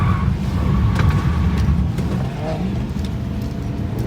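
A BMW M3 E93 drifting, its engine roaring in a steady, close rev with slight surges. Faint voices are barely audible beneath the engine.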